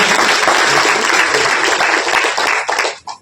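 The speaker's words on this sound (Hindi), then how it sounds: "एक जोरदार ताली होना चाहिए" Loud applause from an audience at a Hindi speech competition, a dense, steady crowd of clapping that holds for about three seconds before fading out abruptly.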